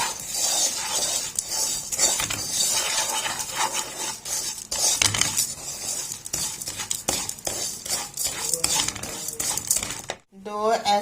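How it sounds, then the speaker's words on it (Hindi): A spoon stirs rabdi milk in a pan, scraping and clinking constantly and fairly loudly against the metal with a soft sizzle beneath, for around ten seconds before a brief pause. "ऐसे हमने चम्मच चलाते जाना है, इसके अंदर चम्मच नहीं हमने रोकना"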